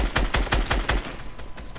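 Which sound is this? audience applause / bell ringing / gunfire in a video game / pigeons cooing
gunfire in a video game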